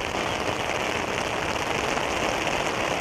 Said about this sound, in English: Rain's getting harder.